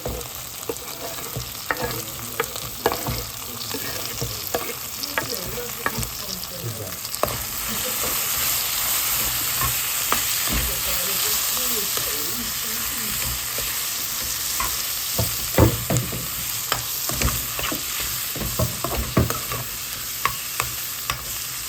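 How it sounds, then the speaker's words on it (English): Onion fries in a pot for saltfish, yam and dumplings, hissing in a continuous loud sizzle while a spoon scrapes and stirs with irregular knocks against the pot. "just getting the flavors of the onion frying in"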